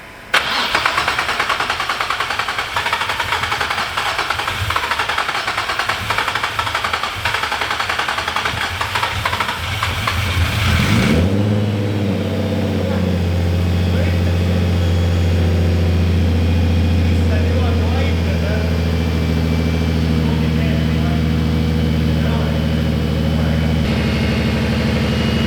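A turbocharged Nissan 350Z with a VQ35DE engine runs after a turbo install, first with loud, busy mechanical noise, then settling into a steady, deep idle that stays even and close for the rest of the clip.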